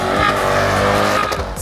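BMW car spinning at a raceway, engine roaring loudly nearby while the tires squeal and skid in a sustained screech.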